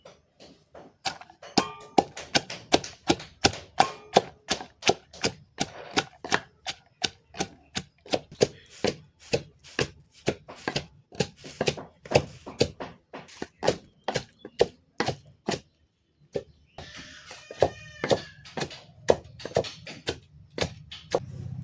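Green chillies and garlic are crushed by steady pounding in a home kitchen, a long run of sharp, close thuds at a regular rhythm, briefly pausing near the end before resuming, with no talk.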